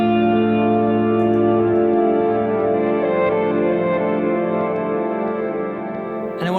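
A looped guitar phrase plays through a pedalboard of effects, sustained chorus-like tones with wide, reverberant harmonics ringing continuously and loud throughout, with no voice over it.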